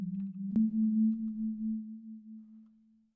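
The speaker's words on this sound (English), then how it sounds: "just going to turn this into a normal sine wave for now." Steady sine wave synth tone from an MPC Live 3, a low pure pitch held for about three seconds after a brief click, fading gently toward the end, with no voices.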